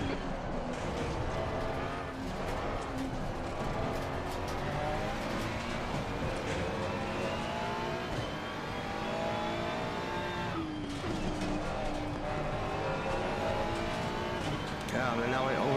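A race car's engine on a lap of Zandvoort in a VR sim racing game, loud and continuous, revving up and down through the gears with rising and falling pitch and brief lifts between corners.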